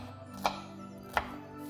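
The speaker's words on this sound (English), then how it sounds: "Take half of a sweet bell pepper, cut it into strips and then into cubes." A knife chops half a sweet bell pepper into cubes on a cutting board in a home kitchen, giving two crisp, well-spaced chops against a quiet background hum.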